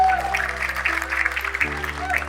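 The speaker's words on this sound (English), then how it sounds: "Let's give her a big round of applause so she hears us." A crowd claps steadily throughout, with sustained musical tones humming underneath.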